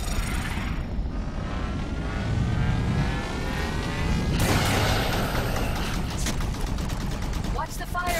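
Rapid turret gunfire and bursts in Halo 5: Guardians, heard amid engine roar from flying Forerunner phaeton craft, with loud sustained rumble and sharp volleys building midway.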